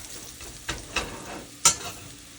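Chow mein noodles fry in oil in a frying pan with a steady sizzle, broken by three or four sharp scraping clatters as they are stirred and loosened.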